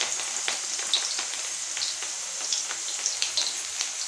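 Chopped onion and potatoes fry in a hot pan for an egg curry, giving a steady close sizzle with scattered small crackles and pops throughout, with no talking.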